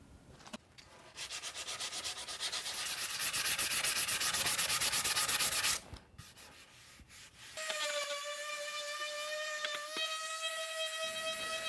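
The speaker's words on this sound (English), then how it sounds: "Notice I start and finish each section to ensure a thorough sanding." Rhythmic rasping strokes of sandpaper rubbing across wood, steady and close, pausing briefly before a high whistling tone takes over.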